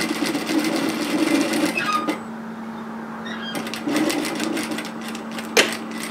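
A sewing machine edge stitching fabric about a pin width from the seam line, running in fast close bursts of rapid needle clatter with short pauses between runs, no voices.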